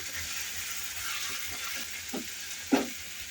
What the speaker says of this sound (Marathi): याच्यामध्ये घालूया टोमॅटो परतून घेऊया